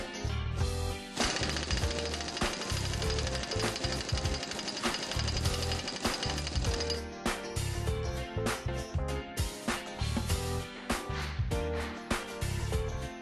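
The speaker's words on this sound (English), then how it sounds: "Tighten the collar nut with the impact screwdriver." An impact screwdriver hammers rapidly while tightening a drive flange collar nut, delivering loud, sustained rattling bursts followed by shorter choppy impacts as the nut seats.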